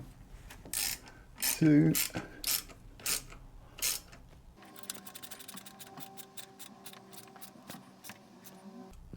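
A ratchet tightening a part on a motorcycle: several loud clanks and metal knocks at first, then a steady, rapid run of close ratchet clicks, with a brief word spoken early on.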